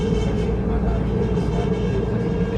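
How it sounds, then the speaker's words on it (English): Train running on a Denver rail line, a steady loud rumble with a sustained squealing tone on top, continuous and close throughout. "These squeaky train noises."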